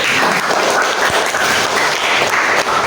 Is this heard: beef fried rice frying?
no